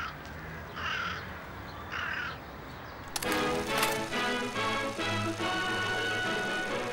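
Crows cawing outdoors: two short, faint caws in the first half, then a louder, busier stretch of calls and rustling close by.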